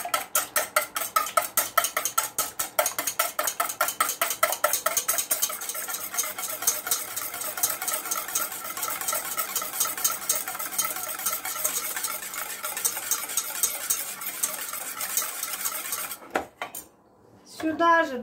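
Two eggs are lightly beaten with a utensil in a bowl while making Georgian chikhirtma chicken soup: rapid rhythmic clinking taps against the bowl, brisk at first and then a steadier clatter, close and fairly loud with no talk.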